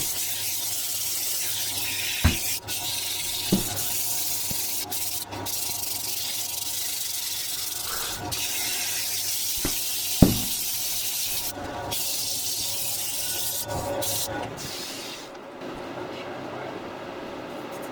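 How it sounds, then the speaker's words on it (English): An oak plant pot spinning on a wood lathe is sanded, giving a continuous hiss and rub over the lathe's hum, broken by a few sharp clicks and knocks. "So I'm happy with that. Give it a sanding."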